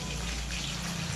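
Taro leaves are washed under running water, heard as a steady, close rushing splash over a short moment with no talk.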